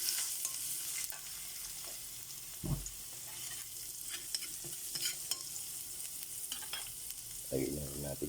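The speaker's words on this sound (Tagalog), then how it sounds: "Salang na po natin yung ating ginisang ampalaya. Bawang." Bitter gourd sautéed with garlic in a pan, a steady close sizzle with scraping stirs and a few louder clanks of the utensil, no voices.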